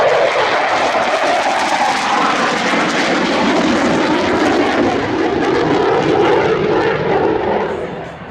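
Military jet making an inverted pass at an airshow, a loud sustained roaring engine sweep that holds strong for several seconds before beginning to fade as it passes.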